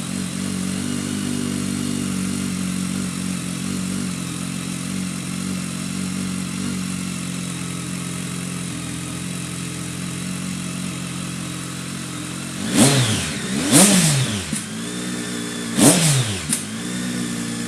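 A BMW K1300S motorcycle fitted with a GPR exhaust idles steadily at a deep, even rumble for a long stretch, then gets two sharp throttle blips that rise and fall before settling back to idle.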